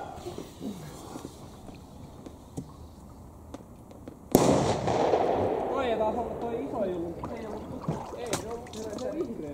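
Fireworks and firecrackers going off outdoors, a sudden sharp bang followed by a dense crackling burst and scattered pops, with quieter ambience beforehand and voices in the background.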